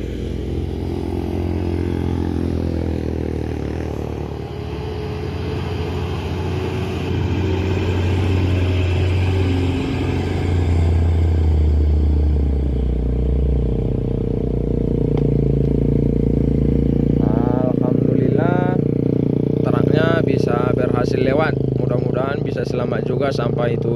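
A cargo truck on the Medan to Padang route labours up a steep hill at Batu Jomba, its engine droning low and heavy throughout, louder toward the end, with people talking over it.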